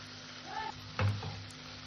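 Spice masala sautéing in oil with cashew and poppy seed paste for a prawn, cauliflower and potato curry, a soft sizzle with a brief scrape of stirring and a faint steady hum underneath.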